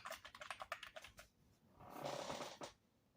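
Typing on a computer keyboard, a quick run of close key clicks in the first second or so, followed by a broader rustling burst and a final thump.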